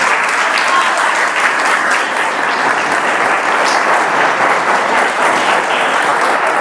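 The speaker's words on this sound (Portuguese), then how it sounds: "Que aplauda Jesus, vai lá" A church congregation in a packed nave applauds steadily, a dense, even wash of many hands clapping that fills the whole stretch without pause.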